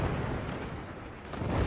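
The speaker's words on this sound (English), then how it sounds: "we got 2 more swarm missiles launched" Swarm missiles launch in the video game Forts, a dense, roaring rush of broadband noise that holds steady and fills the whole moment without a break.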